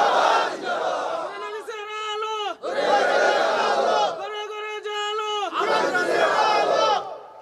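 At a sermon, a crowd shouts the takbir, Allahu Akbar. Loud, massed roars alternate with a single sustained chanting voice in a call-and-response pattern, repeated three times.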